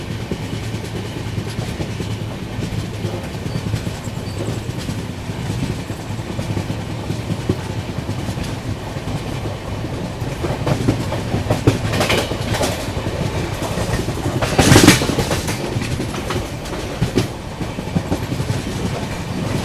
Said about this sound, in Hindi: अपनी गाड़ी जो है वो आकर खड़ी हो चुकी है old Malda junction railway station पे।